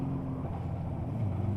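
A 1976 Honda 400-4 four-cylinder motorcycle runs steadily on a ring road, its engine giving a constant low droning hum under passing wind, close and fairly loud.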